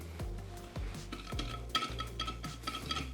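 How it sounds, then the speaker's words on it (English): Flour being whisked in a large container, brisk rhythmic scraping and light metallic strokes repeating several times over a low steady hum, close and fairly quiet, with no voices. "Let's start by whisking up our flour."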